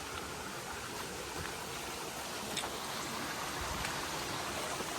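Light drizzle on a mountain hiking trail, a soft even hiss of fine rain with faint scattered ticks, steady and quiet throughout with no voices.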